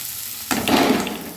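Mung dal hits a pan of frying potatoes with a sudden burst of sizzling that stays close and fairly loud after a quiet start.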